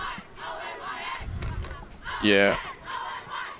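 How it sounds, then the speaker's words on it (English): Ultimate frisbee team cheering and chanting together at a women's league game, a burst of crowd voices rising loudly near the end over a steady background murmur, with a brief spoken word. "Onyx team down there dancing, chanting, cheering together"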